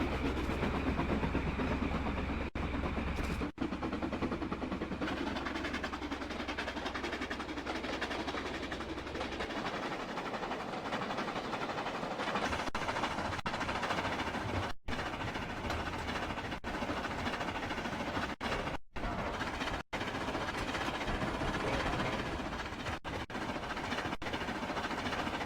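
Darsley diesel locomotive in Trainz Railroad Simulator 2019, a steady engine drone with rail rumble running throughout, a low idling hum fading after the first seconds, faint and distant.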